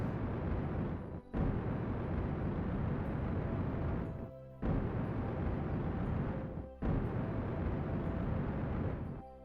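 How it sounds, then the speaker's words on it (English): A retro rocket fires during a landing in Kerbal Space Program, heard as a loud, continuous roaring rumble that cuts out briefly in several short gaps and then resumes. "It's firing our retro rocket."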